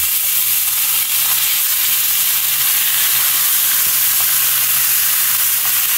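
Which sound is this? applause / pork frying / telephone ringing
pork frying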